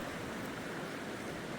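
A wilderness creek of modest speed flows steadily at a stream crossing, giving a continuous, even wash of rushing water throughout with no voices.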